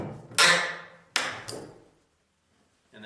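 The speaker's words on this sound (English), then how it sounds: "Now I'm going to use that side nail puller" A side nail puller is struck three times to draw a nail: sharp, ringing metal impacts, the first and second spaced apart and the third following quickly, each fading briefly before a short quiet gap and a faint rustle.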